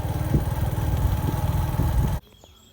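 Motorcycle engine while riding along a smooth road over a small bridge: a loud, steady, throbbing mid-pitched drone with rhythmic pulsing that cuts off abruptly near the end, leaving only faint background noise.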